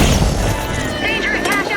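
Blitz grenade going off in the video game The Finals, a loud muffled blast with dense crackling game noise and a voice speaking over it.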